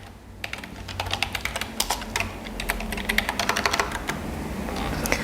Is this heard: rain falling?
no